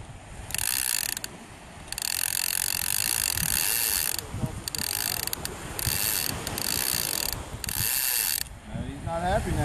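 Fishing reel drag buzzing as a tiger shark on a beach line strips it out in bursts: loud, close ratcheting runs that start and stop several times, with faint background voices and surf underneath.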